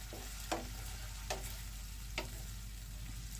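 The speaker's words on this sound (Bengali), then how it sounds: "আমি আলুটা তেলের উপরে ভেজে নিচ্ছি" Potato pieces fry in oil with a soft, low-level sizzle, broken by three or four sharp clicks of a utensil against the pan at irregular intervals.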